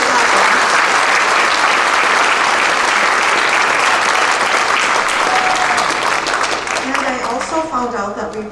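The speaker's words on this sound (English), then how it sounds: "give them a round of applause" An audience at a school band holiday concert claps in a full, steady burst that starts loud and slowly thins out toward the end, with voices emerging as it fades.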